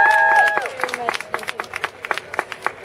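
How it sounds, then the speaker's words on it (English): Applause at the Ryerson Square unveiling on Gould Street in Toronto, crowd clapping that starts beneath a fading tone and thins into distinct, scattered claps toward the end. "Please help me give one more round of applause to Kristen Wong Tam."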